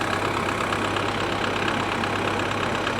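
A 2013 BMW 328i idles steadily after a jump start, its engine a constant close mechanical hum without speech.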